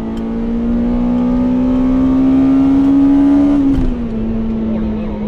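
Honda Integra Type R DC5 with Mugen parts, its engine revving steadily upward toward 9000 rpm as a loud, rising tone inside the car, then dropping off sharply as the revs fall near the end.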